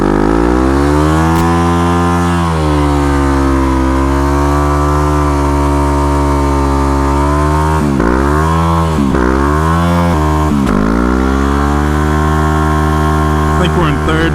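A motorcycle revs hard in a sustained burnout, its rear tire spinning and slipping as the engine howls with rising and falling pitch and a sharp gear change partway through, loud and close throughout.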